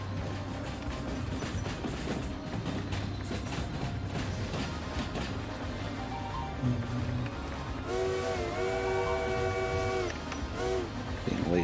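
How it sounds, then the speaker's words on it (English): Locomotive whistle in the Derail Valley train simulator, a long sustained chord of tones blown from about eight to ten seconds, then again near the end, over steady rolling rail rumble and engine drone. "just holding down the whistle button a little bit"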